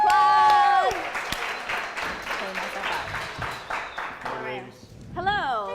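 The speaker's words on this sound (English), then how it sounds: "Everybody give him a round of applause." Studio audience applause greets a guest arriving on a comedy talk show, a steady burst of clapping running under speech and music stings, fading as talk resumes.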